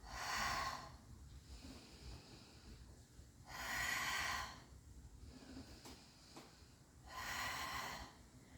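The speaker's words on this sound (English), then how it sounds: "exhale as I press up." Deliberate exhalation during a barbell bench press, heard as three strong breathy bursts spaced a few seconds apart over a low background rumble, with no talking.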